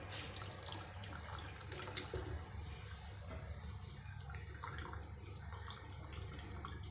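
Water is poured and splashes over freshly made paneer to rinse out vinegar in a home kitchen, a steady running, trickling stream with light spattering, quiet and close, with no talking.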